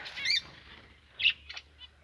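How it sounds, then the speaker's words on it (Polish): A young parrot flapping its wings in short flight, a few quick whirring bursts close by, with faint chirpy squeaks in between and no talk. "Tu się Mała papuga latać nauczyła młoda. Widzicie? Młodziutka lata już."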